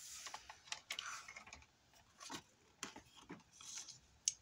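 A paper trimmer cuts paper for a mini album cover. Several faint, sharp slicing and clicking strokes come in irregular bursts close to the microphone, in a quiet room with no speech.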